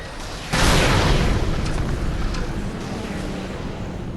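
A loud, deep boom bursts in abruptly, followed by a sustained rumbling roar that slowly fades, like heavy cannon fire in a game; cannon fire in Bloodborne's Yahar'gul, Unseen Village.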